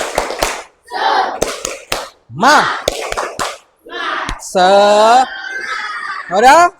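A fifth-grade primary school class performs the 'tepuk semangat' clapping chant: sharp, tight bursts of group clapping alternate with loud chanted voices and a drawn-out sung call, energetic and close.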